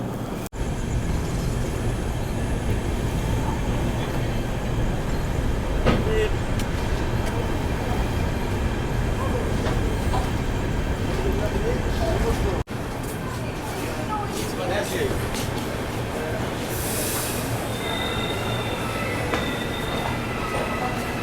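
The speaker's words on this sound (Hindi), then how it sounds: "यहाँ पर अभी क्रॉसिंग हुई है रानी कमलापति अगरतला स्पेशल की" The Rani Kamlapati–Agartala Special passes on a single diesel line near Badarpur Junction in Assam, a long continuous rumble of rail cars and wheel noise with faint squeals, steady and close throughout.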